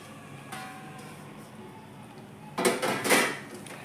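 Wheat ponk flour is stirred into melted jaggery in a pot, giving faint scraping under a quiet background, then a cluster of louder metallic clanks and knocks from the spoon against the pot near the end.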